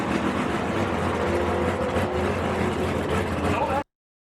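An Audi roars down a quarter-mile drag strip racing a Dodge Challenger Hellcat, a loud sustained engine and tyre roar that cuts off abruptly.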